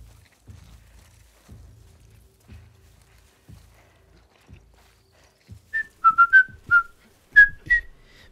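Enemy whistle signals from The Last of Us Part II ring out as a rapid series of sharp, clear whistles in two bursts, following a stretch of soft footsteps; no one talks.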